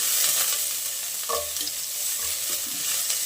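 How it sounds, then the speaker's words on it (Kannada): Curry leaves and chillies fry in hot oil with a loud, continuous hissing sizzle, and a brief stir rustles through it partway. "ಕರಿಬೇವು ಮೆಣಸಿನ್ಕಾಯಿ ಹಾಕ್ಕೊಂಡು ಫ್ರೈ ಮಾಡೋಣ ಇದನ್ನು ಚೆನ್ನಾಗಿ ಫ್ರೈ ಮಾಡಬೇಕು"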